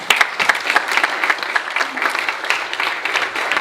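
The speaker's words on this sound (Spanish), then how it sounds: "Recibámoslo con un fuerte aplauso." Audience at a panel discussion event claps steadily to welcome a speaker, dense and lively applause heard alone at close range.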